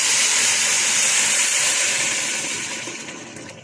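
Water is poured into a pot while cooking sewiya and rice at home, a steady, close rushing pour that fades gradually toward the end, with no talking.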